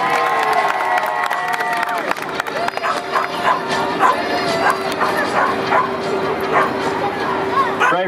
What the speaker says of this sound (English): Make some noise for Ray Ray, everybody.